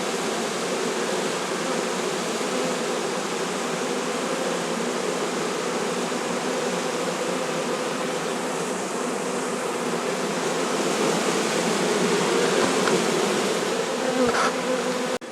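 A honeybee swarm drones steadily and densely as it crawls into a hive, a continuous close buzz holding level throughout with a slight swell near the end.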